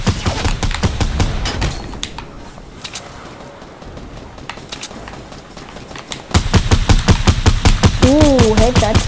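Rapid automatic gunfire from the video game Fortnite crackles in loud bursts, fading to sparse shots in the middle before a dense, sustained volley returns, with a brief voice-like tone near the end.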